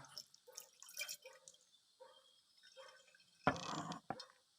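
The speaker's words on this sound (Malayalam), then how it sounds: "അരച്ചെടുത്ത ഈ മുളക് നമ്മളൊരു അരിപ്പയിൽ മറ്റൊരു ജാറിലേക്ക് നന്നായിട്ട് അരിച്ചെടുക്കുക" Ground green chilli liquid is strained through a sieve into a jar: faint, scattered soft sounds give way to a short, sudden splash and pour of liquid, followed by a final drip.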